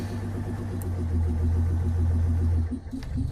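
Dual fuel Bedford 300 cubic inch bus engine running on LPG and petrol, idling steadily with a low, even throbbing rumble close by, a slight roughness near the end.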